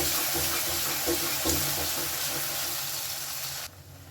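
Mixer-rinse water poured into a pan of oil and ground spice paste while making Afghani paneer, a steady close rush and hiss of liquid that cuts off sharply near the end.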